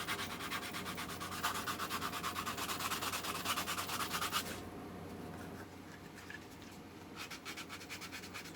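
Hand sanding a wooden magazine holder, rhythmic back-and-forth rasping strokes close up, steady for several seconds, pausing briefly, then resuming with lighter quick strokes.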